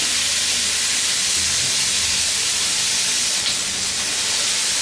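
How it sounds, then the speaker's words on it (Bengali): Onions sizzling in a hot pan for a sweet and sour chicken dish, a steady loud frying hiss that holds evenly throughout with no talk. "দিয়ে পেঁয়াজগুলা একটু স্বচ্ছ হওয়া পর্যন্ত, ট্রান্সলুসেন্ট হওয়া পর্যন্ত আমি একটু ভাজবো"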